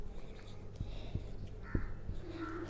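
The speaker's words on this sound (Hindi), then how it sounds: "नंबर लिखती हूँ" Numbers being written by hand along a number line, heard as soft, scattered taps and scratches of a pen or pencil in a quiet room.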